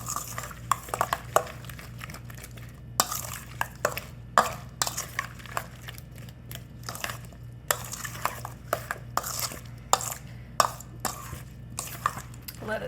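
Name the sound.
stirring seasoned Armenian cucumbers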